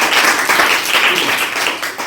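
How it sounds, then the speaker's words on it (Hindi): Students in a classroom break into loud, dense applause, many hands clapping together steadily and close for the whole stretch. "ताली बजा दो भाई"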